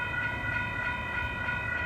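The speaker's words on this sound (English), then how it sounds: "Not gonna get a clear view until the train makes it right to the crossing" A Union Pacific manifest freight train approaches a road crossing, giving a steady, sustained rumble with a bright tonal ring, likely the crossing bell, pulsing evenly over the din, continuous and moderately loud.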